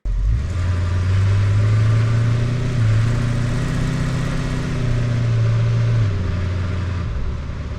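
A car engine and exhaust, recorded up close, drone steadily at a low, rumbling idle with slight rises in revs, a faint rattle mixed into the loud continuous sound.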